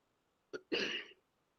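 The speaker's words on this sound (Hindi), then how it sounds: "खांसी आ गई" A short cough from one person nearby: a brief catch followed by a fuller, rougher burst, then quiet.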